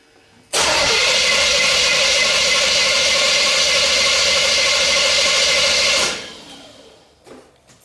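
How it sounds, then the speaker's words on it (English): A 1976 Corvette restomod engine fitted with a Holley Sniper cranks and catches, then runs at a loud, steady idle for about five seconds before being shut off and dying away, alone without talk. "I'm going to crank the engine."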